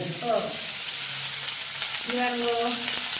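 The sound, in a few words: onions sautéing in hot oil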